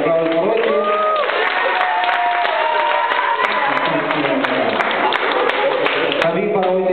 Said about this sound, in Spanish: Vamos a darle un fuerte aplauso, David. Aplausos por hoy.